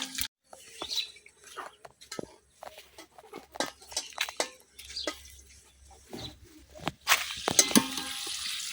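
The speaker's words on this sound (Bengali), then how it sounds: "আস্ত 5 ফোড়ন, এখন সব কিছুক্ষণ ভাজে নেম।" Whole five-spice seeds (panch phoron) and whole green chillies frying in hot oil give sparse, faint crackles and sharp pops, now and then growing into a brief louder sizzle near the end.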